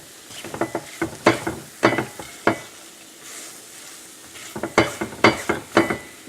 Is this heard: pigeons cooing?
no